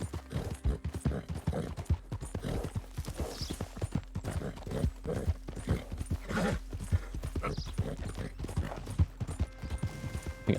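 Horse hooves clip-clop steadily in the video game Red Dead Redemption 2, a rapid, continuous rhythmic clatter heard close and fairly clear, with no talk over it.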